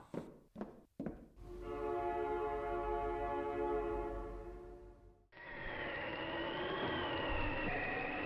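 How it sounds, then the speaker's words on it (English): A train roars closer with a long, loud horn blast after a few heavy thumps, then a shrill wavering whistle takes over near the end. "There's the train."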